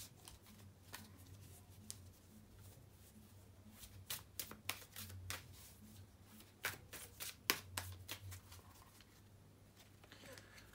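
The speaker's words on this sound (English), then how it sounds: "bear with me a second, guys, to shuffle the tarot cards" Tarot cards riffled and shuffled in repeated bursts of crisp flutters and snaps, close by, with a faint low hum underneath and no talking.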